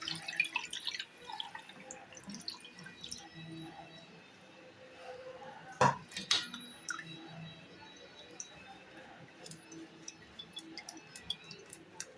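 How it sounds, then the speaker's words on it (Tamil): Ground bamboo rice batter thinned with water is poured through a strainer, giving soft irregular drips and trickles with faint squishy handling sounds, a couple of sharper clinks near the middle, and no talking. "இதை இப்போ வடிகட்டிக்கலாம்."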